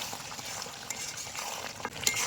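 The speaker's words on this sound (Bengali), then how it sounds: "সুন্দরভাবে একটু নাড়াচাড়া দিয়ে" A spoon stirs yogurt mutton curry in a pot over a wood-fired stove, giving soft scraping and an occasional metal clink over a steady, close sizzle, with no one speaking.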